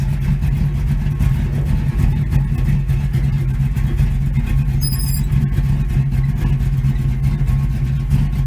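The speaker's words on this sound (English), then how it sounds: "She's driving pretty nice." A 1971 Chevy C10 pickup truck driving, its engine rumbling loudly and steadily from inside the cab with a deep low drone throughout.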